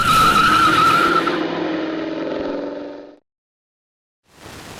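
A Jeep stroker engine on a dyno wails at high rpm, its tone gradually sliding down for about three seconds before cutting off abruptly into silence, then a quieter return of noise near the end.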